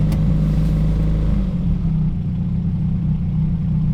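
A Honda Civic engine drops from held throttle and settles into a steady, low idle, a constant close mechanical hum with no talking.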